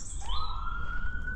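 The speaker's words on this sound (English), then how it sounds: "you can hear the sirens" A police or emergency vehicle siren wails outdoors on a walk, a rising electronic tone that climbs and then holds steady, fairly loud and alone.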